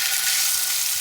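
Chicken frying for a homemade pizza topping gives a dense, even sizzle of hot oil, loud and continuous with no talking over it.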